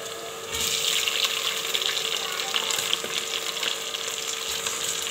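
Chicken frying in a pan, a continuous close hiss and crackle of sizzling oil that swells as the pieces go in and holds steady throughout, with faint stirring sounds.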